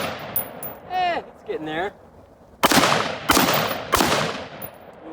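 Three sharp, loud rifle shots from an Aero Precision ATLAS M4E1 AR with an 11.5-inch upper, spaced about a second apart after a stretch of speech, each blast ringing out briefly over an outdoor range background.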